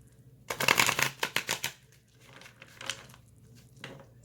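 Tarot cards being shuffled by hand: a burst of rapid riffling crackles, then several slower, softer shuffling passes, close and clear with no talking.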